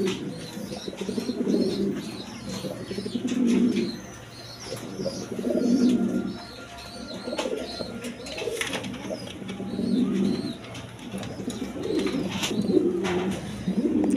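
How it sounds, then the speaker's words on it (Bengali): A pair of fancy deep maroon-red pigeons coos again and again in steady, swelling rounds. The birds sound close and clear, with faint chirps and a brief wing flutter behind them. "এক পেয়ার শৌখিন কবুতর আছে, একবারে লাল কবুতর"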